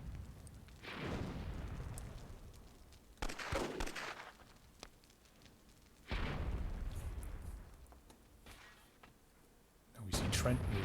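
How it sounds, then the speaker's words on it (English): Several loud booming explosions in the Myth II Soulblighter strategy game, each a sharp burst followed by a rumbling decay, repeating roughly every few seconds. "Oh, just a massive explosion there."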